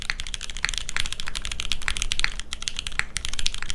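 Steady, fast typing on a Kohaku mechanical keyboard with MX Black switches and an aluminum build, dense clacky keystrokes in an irregular rhythm, close and fairly loud with no talking.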